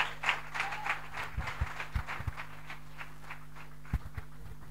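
Applause at a church ceremony acclaiming the Lord, a modest scattering of claps from a congregation, irregular and uneven, with a few louder single claps and a steady background hum.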